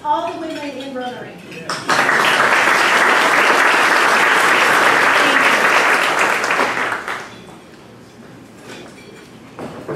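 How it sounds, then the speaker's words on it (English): Audience applause for the women in Rotary at a Rotary meeting, a loud burst of clapping that starts abruptly after a voice speaks, holds steady for about five seconds, then fades out into quiet room sound. "let's applaud all the women in Rotary"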